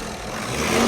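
A turbo diesel Mercedes engine held under brake torque gives a steady, close, low engine drone that rises slightly in loudness over a brief moment, with no voices.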